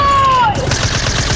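Rapid gunfire from Fortnite as players shoot down a wall, loud and dense over a steady game background after a fading tone.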